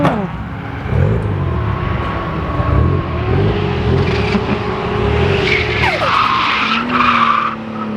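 A stock LS1-engined car with intake and tune on 205 tyres skids in fourth gear, its loud continuous tyre squeal riding over a roaring engine close by, with the pitch sliding near the end.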